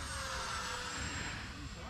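An FMS P-51D Mustang 1100mm RC plane on 4S power drones steadily in flight with a high electric whine, quiet and somewhat distant.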